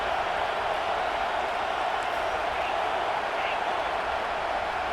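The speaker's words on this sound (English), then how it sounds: "listen to this crowd coming through." Crowd noise roars steadily through a stadium in a football video game, a dense, even wash of cheering that stays loud and unbroken throughout.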